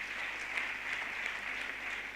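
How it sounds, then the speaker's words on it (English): Applause from the audience at a university graduation ceremony: a quiet, even hiss of many hands clapping that holds steady for about two seconds, heard from a distance. "I think they deserve a big round of applause."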